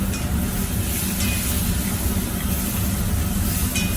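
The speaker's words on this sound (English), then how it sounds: "we're going to add a little wine in here to deglaze our pan with" Wine hitting a hot pan to deglaze it, giving a steady, loud broadband sizzle and hiss that runs the whole time, with a few faint scraping or clinking touches and no talk.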